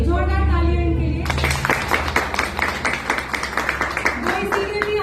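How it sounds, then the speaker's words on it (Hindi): Audience clapping at a women's group meeting, a dense run of claps starting after a voice and continuing steadily for several seconds at moderate loudness. "जोरदार तालियां इनके लिए"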